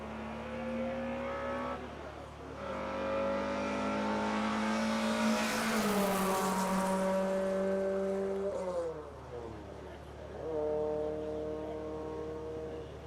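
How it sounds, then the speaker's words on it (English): A little 4-cylinder normally aspirated VW Golf race car at a top-speed run approaches with a rising engine note, roars past loudly, then drops in pitch and fades into the distance. "Speed of 152 for Lincoln Randall in the little 4-cylinder, normally aspirated VW Golf."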